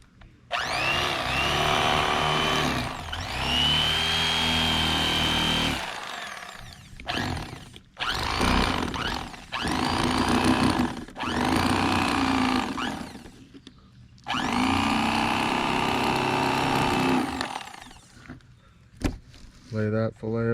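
An electric fillet knife cutting a walleye fillet, a close buzzing motor whine in several bursts of a few seconds each, separated by short pauses, with a person talking in between.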